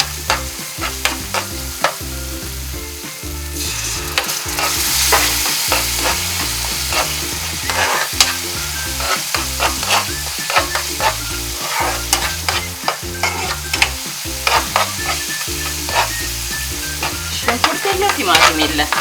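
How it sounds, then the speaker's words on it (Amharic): Berbere chilli paste frying with oil and a little water in a pan for Ethiopian firfir, a constant close sizzle under rapid, rhythmic spoon strokes scraping and stirring throughout. "መጥበሻችን እንዳይዝብን ያው መለስ እያለን ማማሰል"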